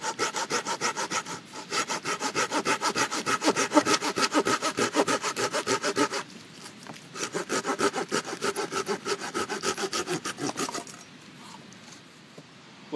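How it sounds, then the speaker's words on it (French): A hand saw rasps through wood in quick, steady back-and-forth strokes at a bushcraft camp, close and loud, pausing briefly twice before the cutting ends. "là je recoupe un peu avec la scie"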